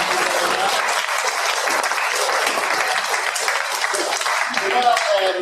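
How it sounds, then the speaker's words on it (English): An audience applauds a course's helpers at a presentation event, a steady, dense wash of clapping that stays loud and even from start to finish. "so I'd like a nice round of applause"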